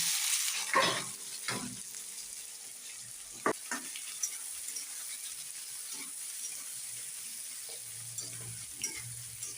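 Chopped onion dropped into hot oil with browned whole cumin seeds, a quiet continuous sizzle with several sharp stirring knocks and scrapes of a spoon against the pan.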